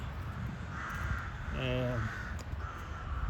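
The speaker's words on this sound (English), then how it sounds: "The birds are active, it seems." Crows caw outdoors, a few hoarse calls spaced apart with one clearer harsh caw in the middle, moderately distant beneath a steady background hum and light room noise.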